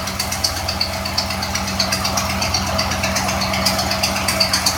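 A 1956 Ford F100 truck engine with a remote-mounted TFI ignition idling while it warms up, a loud, steady, slightly lumpy rhythmic idle up close with no talk.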